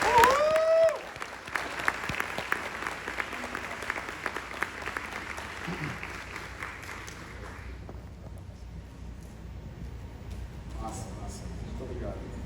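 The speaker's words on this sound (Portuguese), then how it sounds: "Quero pedir uma salva de palmas de novo." Audience applause at a marketing master class event, a burst of clapping that starts loud and then thins into a scattered, fading patter, with a voice briefly heard at the start.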